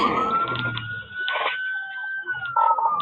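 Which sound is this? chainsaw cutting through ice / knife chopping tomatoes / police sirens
police sirens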